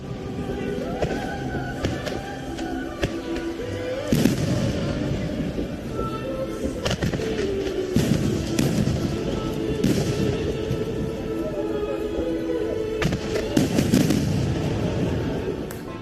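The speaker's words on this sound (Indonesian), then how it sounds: "terlihat bahwa betapa indahnya kembang api meledak dan mengeluarkan cahaya di langit" Fireworks exploding in the sky: a continuous barrage of booms and crackling bursts, loud and dense, with overlapping sharp pops throughout.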